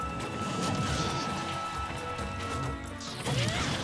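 Forward smash attacks by Pikachu in Super Smash Bros land as crashing hits within a dense, continuous wash of game sound effects and crowd noise, with a louder impact near the end.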